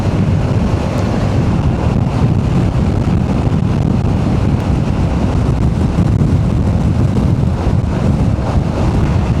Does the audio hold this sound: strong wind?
yes